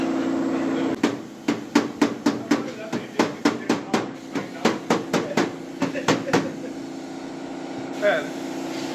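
Sharp metallic hammer blows strike car body panels about twenty times in an uneven rhythm, ringing over a steady mechanical hum in the background.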